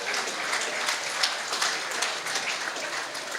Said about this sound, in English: Round of applause for the ladies.